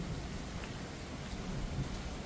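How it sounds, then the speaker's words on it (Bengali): Monsoon rain falling outside, a faint, even hiss of steady rainfall with no distinct drops or voices. "এতক্ষণ ধরে বৃষ্টি হবে এটা বুঝতে পারিনি"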